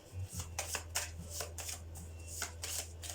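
Tarot cards are shuffled by hand in quick riffling bursts with soft slaps as cards are drawn, close and fairly quiet over a low steady hum.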